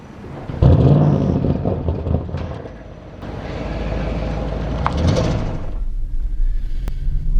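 A 2021 Audi RS7 pulls away with a loud, deep engine rumble that swells, steadies into a sustained drone, then eases off, joined by a sliding or thudding sound near the start.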